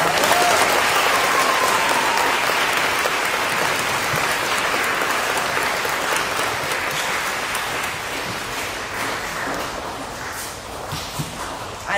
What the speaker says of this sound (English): Can we please give Mrs. Whitlock a huge round of applause?